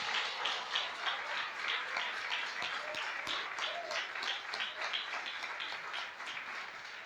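Church congregation applauding during a sermon, a steady wash of many hands clapping throughout, moderately loud with faint voices mixed in.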